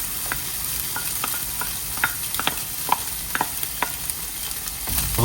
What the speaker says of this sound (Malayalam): റോസ്റ്റ് ആവുന്നത് വരെ മിക്സ് ചെയ്യുക.